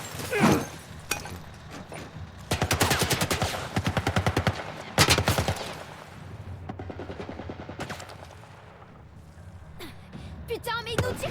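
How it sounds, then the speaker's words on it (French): Gunfire in The Last of Us Part 2 video game, with rapid automatic bursts and single loud shots in rolling volleys, while players talk and exclaim over it. "mais il nous tire dessus!"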